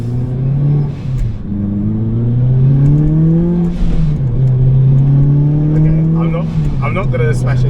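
A Honda Civic FN2 Type R with a K24 engine and Rotrex supercharger revs in a steady, loud drone that swells and dips in pitch, with a few sharper mechanical notes near the end.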